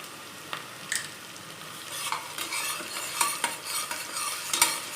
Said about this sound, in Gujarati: ડુંગળી લાઈટ ગોલ્ડન બ્રાઉન થાય ત્યાં સુધી આપણે તેને હલાવવાની છે